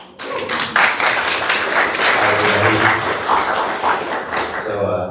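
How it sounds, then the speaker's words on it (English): At an estate planning seminar, a room full of people breaks into loud, dense applause that holds steady throughout, with a few voices mixed in. "So big round of applause"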